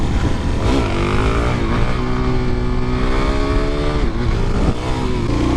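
A motorcycle engine revs and pulls hard into a power wheelie, its loud close tone rising in pitch through repeated surges over constant wind noise.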